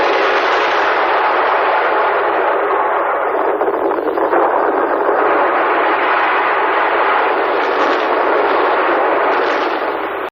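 A massive, sustained roaring rumble of a 21.1-megaton Soviet nuclear bomb test at Novaya Zemlya, loud and continuous for about ten seconds, fading slightly at the end.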